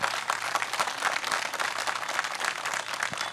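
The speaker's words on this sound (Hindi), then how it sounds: "एक बार जोरदार तालियां होनी चाहिए" Dense crowd applause at a Bihar political rally in 2025, a steady wash of many hands clapping at moderate distance with no speech, sustained evenly throughout.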